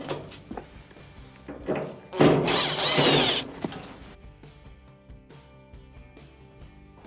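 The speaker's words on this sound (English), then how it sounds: "Remove the 2 Phillips screws." A power screwdriver whirs briefly in one loud burst as two Phillips screws are backed out of a clothes dryer panel, surrounded by scattered clicks and handling knocks of metal parts.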